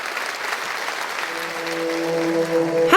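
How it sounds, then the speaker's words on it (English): Audience applause after an improvised bertso performance at a bertsolaritza event, a steady wash of clapping from a crowd, with a sustained tonal note rising underneath in the last second and a half. "after each bertso, the audience is invited to applause"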